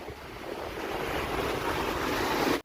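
Sea waves wash steadily onto a beach at the Bulgarian resort of Sveti Vlas, a continuous broad surf hiss with some wind noise, ending in a sudden cut.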